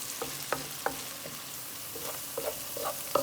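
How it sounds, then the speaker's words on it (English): Eggplant sabzi fries in a pan with a soft, continuous sizzle. Several quiet spoon scrapes and knocks punctuate it at an uneven pace while the stirring goes on. "Then I'm going to fry another 2-3 minutes."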